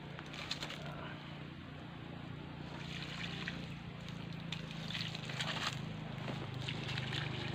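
Dissolved fertilizer is poured slowly over a large potted Singapore bougainvillea, producing a steady, close rush and splash of water with a low hum beneath it throughout.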